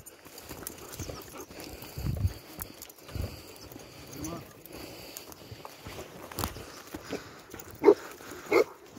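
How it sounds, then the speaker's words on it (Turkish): Dogs, one of them a young dog about eight or nine months old, give a few short, faint sounds that rise briefly near the end over a busy, rustling background with scattered movement. "Sinan Gül arkadaşımızın köpeklerine bak"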